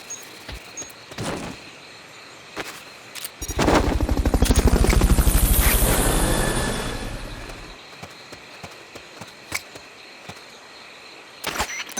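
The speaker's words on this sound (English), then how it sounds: "Fulton Recovery helicopter is complete." Fulton Recovery helicopter in Metal Gear Solid Peace Walker, a loud chopping rotor swelling in and fading out over several seconds, framed by sharp isolated game sound effects before and after.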